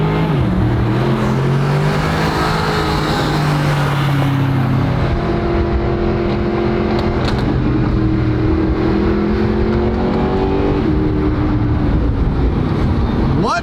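A powerful Mercedes SL300 engine revs and drones loudly throughout, its pitch rising and falling in smooth sweeps, with wind and road noise around it.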